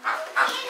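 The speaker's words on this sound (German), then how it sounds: "Michel macht die Hunde neidig" Dogs indoors make three short, breathy whines or yips in quick succession, close and fairly loud, with no talking.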